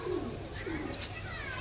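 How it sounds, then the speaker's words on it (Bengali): Pigeons kept for sale coo in short low bursts near the start, partly masked by a steady noisy background, with a voice faintly present. "দেখুন কত বড় নোকের পায়রা"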